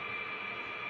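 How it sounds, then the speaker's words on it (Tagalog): LG split-type aircon blower humming with a noisy worn rubber bushing, a steady faint electrical hum with a constant tonal whine and airy noise, unbroken throughout. "bali naugong pa rin yung kanyang blower"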